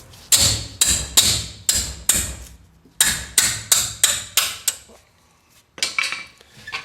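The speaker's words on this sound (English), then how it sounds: "just hit the back of the Allen wrench. And it's just like an impact driver" A hammer strikes the back of an Allen wrench to break loose a brake rotor screw on a rotor with tapered roller bearings. About a dozen sharp, close metallic raps come in quick bursts with short pauses and no talking.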